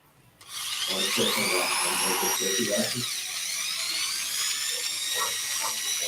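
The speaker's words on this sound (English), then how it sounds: "We're ready to drill." A high-pitched power drill whines steadily for several seconds as it bores into a watermelon, with a slight pitch dip midway, while people speak briefly underneath.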